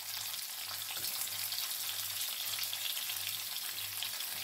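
Chopped onions sizzle steadily in a pan during preparation of a zucchini flower stew, a dense, even crackle held at moderate loudness throughout with a low hum underneath and no talk.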